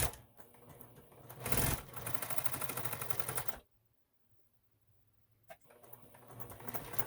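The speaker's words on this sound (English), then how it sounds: "We're going to sew our flap down." A sewing machine stitches down the flap of a knitted wool rug yarn purse lining, running in steady rapid bursts with a pause of silence partway through before starting up again.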